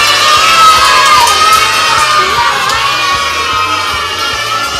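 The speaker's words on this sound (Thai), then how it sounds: "ถ้าพร้อมแล้วขอเสียงปรบมือกำลังใจให้กับเพื่อน ๆ หน่อยเย้" Kindergarten children at a school event clap and cheer loudly, high excited shouts and whoops riding over a dense crowd noise that stays close and full throughout.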